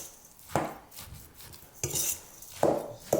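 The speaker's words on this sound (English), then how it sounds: "Combine it with flour, cocoa, sugar mix. Now mix it very well." A spoon scrapes and knocks against a bowl while squash brownie batter is mixed with flour, cocoa and sugar, giving three or four distinct clattering strokes with short pauses between them.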